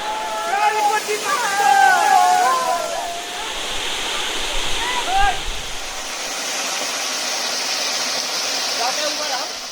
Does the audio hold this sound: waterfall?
yes